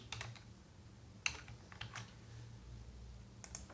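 CSS code being typed on a computer keyboard, scattered quiet key clicks in small clusters with pauses between them, faint and close over a low background hum.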